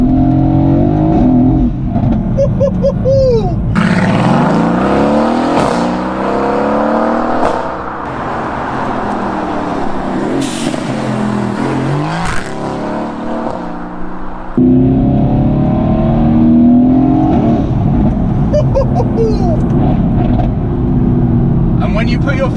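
A Renntech-tuned Mercedes-AMG GT S accelerates hard from inside the cabin, its engine climbing in pitch through repeated upshifts, loud and close, with a driver talking over parts of the run.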